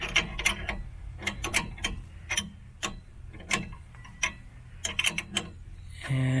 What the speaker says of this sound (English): The top one we're just going to do with an open-end wrench.